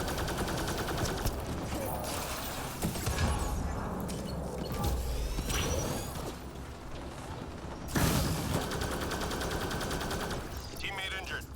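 Weapon fire in the Mass Effect Andromeda multiplayer mode rattles in rapid automatic bursts with mechanical clatter. The bursts swell and pause, with a sharp louder burst near the end, and game sounds play alongside.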